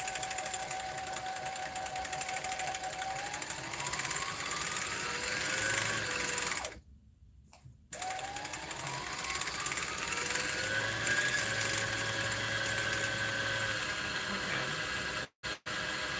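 A home sewing machine that is acting up stitches fabric for a cut-and-sew garment. It gives a close, whirring hum that rises and falls in pitch, stops abruptly for about a second, runs again, then cuts out briefly near the end.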